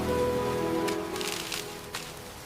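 Rain falls steadily on surfaces outdoors, a continuous wash with a few brief splashes, alongside a low hum in the background.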